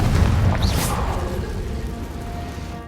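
A Confringo spell blast in Hogwarts Legacy: a loud booming burst at the start with a brief whooshing flare, then a rumbling tail that fades out over a few seconds.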